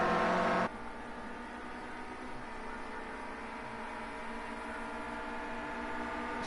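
A Clio Cup racing car engine holds a steady high-revving drone with a bright harmonic whine, following a brief louder burst at the start.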